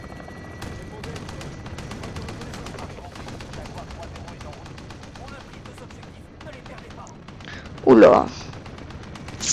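Call of Duty multiplayer gunfire, rapid bursts of automatic shots firing in quick rhythmic strings, moderately loud, with a player talking over them and a sharp louder blast near the end.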